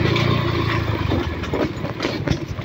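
Motorcycle engine idling on a muddy rural road, a steady low rumble with faint rhythmic knocking, close and fairly loud throughout.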